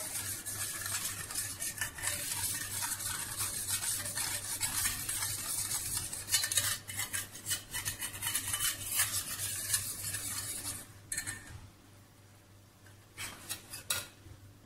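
Pizza dough ingredients with sugar just added are stirred by hand, producing steady scraping and clinking of a utensil against a bowl for most of the stretch, easing off near the end.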